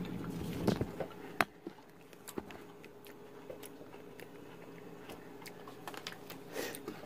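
Someone eats tomatoes and grapes, with quiet, scattered wet bites and chewing clicks close to the microphone and a couple of sharper crunches near the start.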